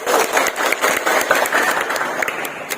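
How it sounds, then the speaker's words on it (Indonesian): Audience applause fills a hall during a company orientation for new employees, a dense steady clapping that stays loud and close for its whole length. "Tepuk tangan dulu semuanya."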